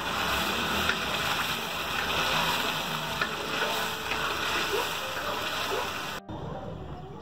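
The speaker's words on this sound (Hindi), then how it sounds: "तो साग छोंक दिया है," Saag greens tempered into fried onions in a pan, giving a dense, steady sizzle and frying hiss close up with faint stirring scrapes, cutting off abruptly near the end.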